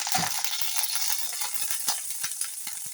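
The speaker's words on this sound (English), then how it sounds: "we'll just give it a bit of a fry in the frying pan" Steady, close sizzling of pork steak frying in a hot pan, with a dense crackling hiss and scattered pops and spits throughout, no talking.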